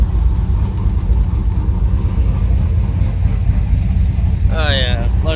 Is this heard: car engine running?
yes